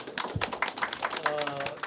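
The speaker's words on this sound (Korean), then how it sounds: "박수 부탁드리겠습니다" Quick, scattered hand claps from an audience in an academic conference seminar room follow a presentation, short and close, with someone talking over them.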